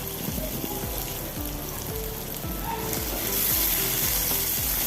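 Cauliflower goes into softened tomatoes in a frying pan, giving a steady sizzle with repeated scraping clatters as the pieces are stirred, close by and without talk.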